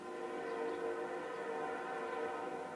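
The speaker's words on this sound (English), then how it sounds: "I'm learning to love the train whistle." Steady, droning train whistle heard some distance away as a train passes, faint and sustained throughout without break.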